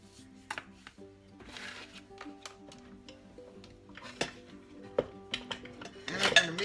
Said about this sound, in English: And I'm gonna mix it up real good.